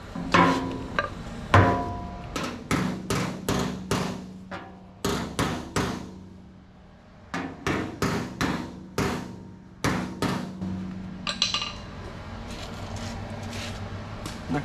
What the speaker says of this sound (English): And then hammer the rest of it the rest of the way around.